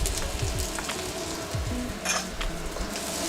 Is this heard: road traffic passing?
no